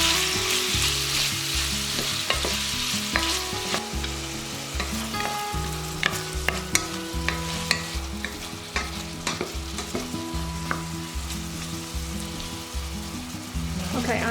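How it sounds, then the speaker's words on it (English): Onions frying with sausage in a pan for a bean stew, a close sizzle with frequent spatula scrapes and clinks over a low background hum, continuing steadily with no voices. "Now I'm going to add the onions and let them cook till transparent with the sausage."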